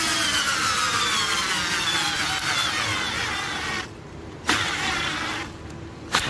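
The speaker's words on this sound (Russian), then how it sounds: "Сейчас попробуем закрутить глухарь." A cheap cordless screwdriver with a weakening battery whines and strains steadily for several seconds driving a lag screw without a pilot hole, its pitch slowly sinking under load, then cuts out with a couple of sharp clicks.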